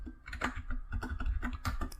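Quick keystrokes on a computer keyboard entering a command on an Ubuntu server, a close, steady patter of clicks with no speech.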